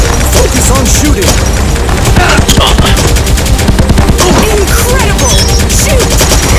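Dense, loud gunfire in the arcade shooter Elevator Action Invasion, rapid shots layered with impacts and crashes in a continuous busy stream, with faint game voices mixed in.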